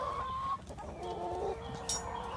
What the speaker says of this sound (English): Jay, I could be holding the chicken and showing you the eggs